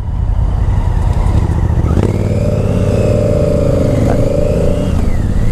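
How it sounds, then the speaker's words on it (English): A Honda Africa Twin motorcycle running a baffleless Scorpion exhaust revs loudly up close, with a deep steady rumble that swells and eases through the throttle blips. "hearing these Africa Twin with no baffles"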